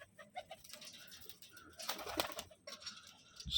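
Madrasi pigeons give soft, low coos in short bursts, fairly faint and muffled against background rustle and handling noise.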